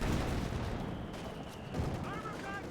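A bazooka fires on a Panzer IV tank in a Company of Heroes 2 battle, one boom within a dense rumble of gunfire and artillery, with a voice talking over the clamour.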